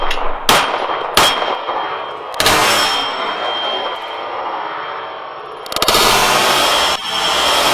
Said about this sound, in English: And now the plate.